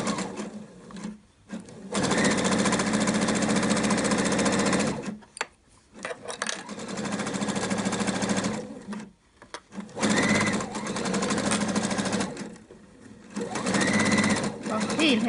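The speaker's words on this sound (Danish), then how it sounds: "så jeg syr lige lidt frem, og så lidt tilbage igen, så har jeg hæftet min søm" A sewing machine stitches a seam on a Christmas elf hat, running in long steady buzzing bursts with short pauses between, forward then back, close and loud while someone talks over it.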